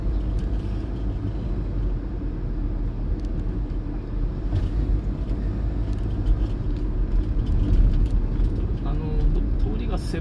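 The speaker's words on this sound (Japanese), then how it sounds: "ただ車の往来は多い方ですね、この県道。" Cars pass along a narrow, busy prefectural road in Kumagaya, Japan, a low, steady traffic rumble that swells slightly near the end beneath someone talking.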